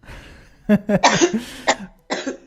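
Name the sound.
cough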